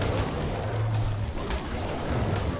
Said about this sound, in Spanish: ¿Dispara el cañonazo?